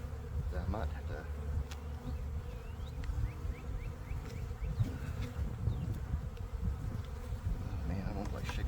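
A dense, steady hum of many honey bees buzzing close by in a package, continuous and fairly quiet, with small knocks and rustles mixed in.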